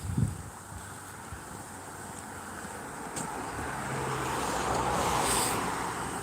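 Wind blowing outdoors on a walk, a steady broadband rush that buffets the microphone and builds louder toward the end, with faint passing traffic in the background.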